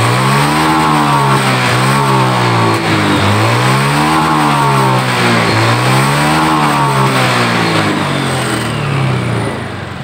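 A fuel-injected motorcycle with a hard-starting fault that won't hold throttle is revved repeatedly, its loud engine note rising and falling in steady waves for the whole stretch, close up and with no talk.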